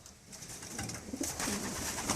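Racing pigeons cooing inside a wooden loft, several soft throaty coos rising and overlapping at close range, growing busier toward the end, with no talk.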